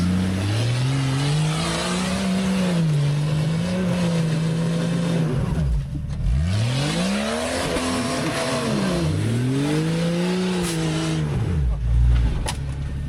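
An old, worn Jeep stuck off-road and being dug out, its engine revving hard in long rising and falling surges with tires spinning, close and loud, while people talk and shout over it.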